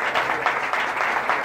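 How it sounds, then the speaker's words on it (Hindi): Short burst of audience applause at a church gathering, a steady patter of many hands clapping at moderate loudness with no talk over it. "जोरदार तालियां बजाएं"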